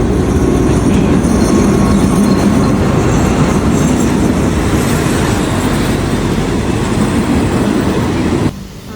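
A train rolls toward Thonburi station in Bangkok in the rain, a loud, steady rumble with rattling, clacking wheels and a faint squeal, heard from inside the train before it cuts off near the end.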